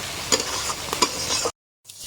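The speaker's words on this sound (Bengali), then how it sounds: "হ্যাঁ, চলো এবার এটা ভালো করে কষিয়ে নেব।" Spice masala being stir-fried in oil in a pan: steady close sizzling with scraping stirring strokes for about a second and a half, a brief silent gap, then the sizzle resumes.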